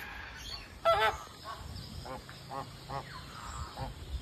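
Caged birds of many varieties calling, with geese giving repeated nasal honks, faint and spread through a short stretch of background noise.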